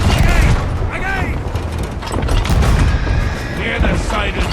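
Heavy ship cannon blasts in the video game Sea of Thieves boom and crash in a dense, loud barrage, with shouting voices mixed into the chaos.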